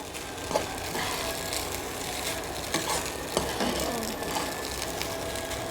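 Coconut rice sevai being stirred in a pan, a soft background sizzle broken by repeated scraping and tapping of a utensil against the pan at irregular intervals, with no one talking.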